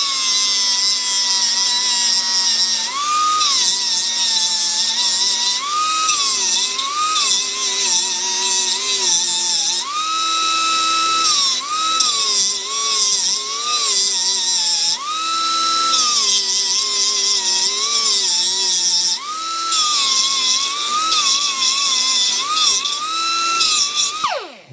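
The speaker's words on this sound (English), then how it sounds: "I think what I'll do is just try to sand it off with my little sanding disc here" A small sanding disc whines at high speed against a motorcycle headlight, its pitch dipping and recovering repeatedly as pressure changes, loud and close throughout, then spinning down at the very end.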